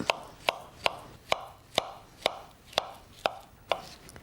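A banana sliced lengthwise is chopped with a knife on a cutting board, nine sharp, evenly spaced knocks close up and alone in a quiet kitchen.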